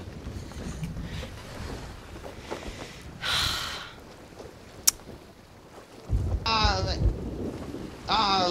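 A thunderstorm with rain in Sea of Thieves surrounds a sailing ship: a steady wash of rain and wind, a rumble of thunder, a sharp crack, and creaking surges of water and timber toward the end.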